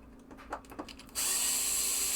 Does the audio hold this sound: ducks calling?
no